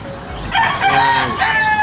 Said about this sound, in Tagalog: Mga manok na native.